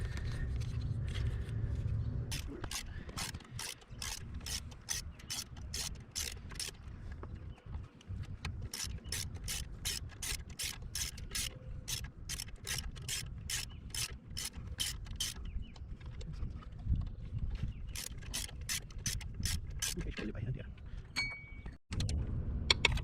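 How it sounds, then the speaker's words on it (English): A ratchet undoes a bolt while replacing the starter motor on a 2006 Honda Accord, giving long runs of quick, even metallic clicks in steady strokes, close and fairly quiet, with brief pauses between runs. "I think I'm going to need to undo this bolt"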